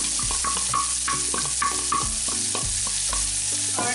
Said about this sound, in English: we're going to be adding our onions